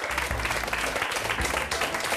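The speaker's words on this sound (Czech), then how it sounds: "Ještě jednou potlesk pro naše hosty" Studio audience on a Czech TV show applauding its guests, a continuous, even burst of clapping throughout the short stretch.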